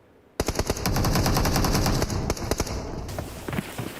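An M60 machine gun fires in the PUBG Mobile video game, letting off a loud, rapid burst of shots that runs for several seconds and then trails into a few scattered single shots.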